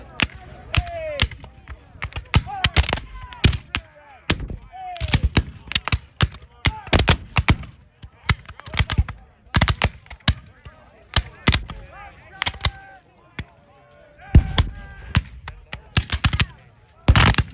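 Rapid, irregular musket fire from a Civil War battle reenactment at Cedar Creek, Middletown, Virginia, with sharp loud cracks scattered in quick succession and some overlapping, while commands and shouts carry between the shots.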